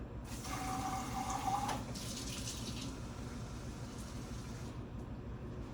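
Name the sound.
warm water poured for fry pie dough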